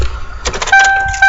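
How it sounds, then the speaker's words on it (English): Door chime of a 1996 Ford Thunderbird LX, a steady electronic tone that starts partway through and repeats, close and loud, following a brief rustle and a thump. "There's your door chime."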